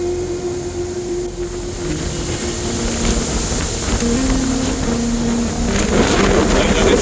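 Strong wind from an arcus cloud during a thunderstorm roars steadily and loudly across the microphone, buffeting noise building toward the end, with a low engine-like hum underneath.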